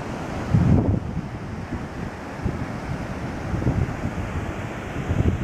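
Steady wind buffeting the microphone over a constant wash of breaking surf on Keramas Beach, Gianyar, Bali, with a brief louder gust near the start.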